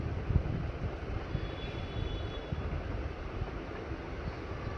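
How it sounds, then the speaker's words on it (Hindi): A sewing machine stitches a strip onto a salwar, giving a continuous low motor whir at moderate to quiet level with no pauses. "अब इस पे सिलाई लगा देंगे"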